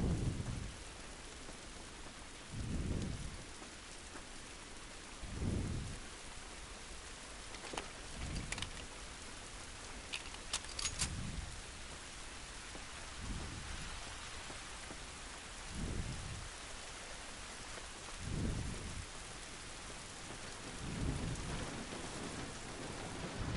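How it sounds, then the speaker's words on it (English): Steady rain falls in The Last of Us video game, a constant hiss with low rumbles of thunder swelling every few seconds and occasional sharp clicks, fairly quiet overall. "This rain ain't gonna do us any good."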